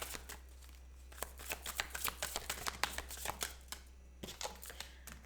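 Tarot cards are shuffled by hand in a quiet room, a series of soft, rapid riffling and slapping bursts in irregular rhythm, close and fairly faint, with a low steady hum behind.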